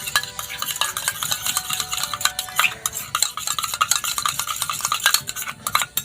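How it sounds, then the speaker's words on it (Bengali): Yogurt being whisked rapidly in a bowl while making doi kachuri: a continuous quick, rhythmic scraping and clinking of the utensil against the bowl, loud and close throughout, with no talking. "দইটা খুব ভালো করে ফেটিয়ে নিচ্ছি"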